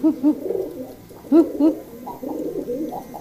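Pigeons cooing close by, repeated soft throaty coos in uneven bursts, overlapping one another with no talking.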